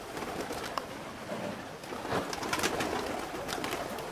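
Several pigeons come in to land fast, wings clapping and whirring in short flurries over a low bed of cooing.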